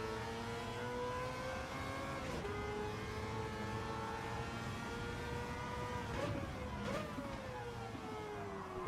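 Race car engine in a racing video game on a wet track, droning steadily and loud throughout, with gear shifts and pitch dips as it brakes and accelerates, no voices over it.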